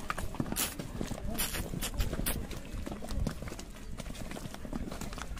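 Horse hooves clip-clop in a steady rhythm during a hillside ride at Kufri, close and moderately loud, with faint background voices.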